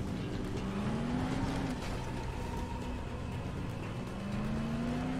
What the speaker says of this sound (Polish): Wsiadamy do samochodu i jedziemy.